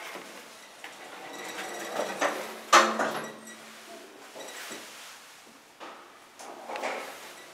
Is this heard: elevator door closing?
yes